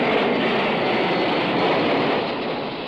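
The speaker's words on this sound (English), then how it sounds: "Jet planes that move us quickly assault our ears" A jet plane passing overhead, heard as a steady, loud broadband roar that holds throughout and eases off slightly toward the end, with no voices.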